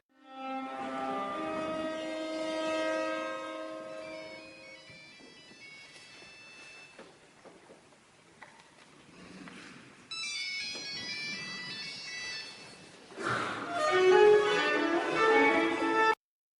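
A bowed viola plays sustained notes, later joined by a bright, beeping Nokia phone ringtone melody that grows louder toward the end.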